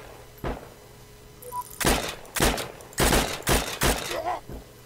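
Rapid bursts of gunfire in the online war shooter Heroes & Generals crack out in a fusillade, one isolated shot followed by clustered volleys of loud, sharp reports.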